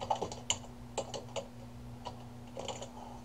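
Light typing on a computer keyboard: a handful of soft, irregular key clicks in short bursts over a low steady electrical hum, with no talk.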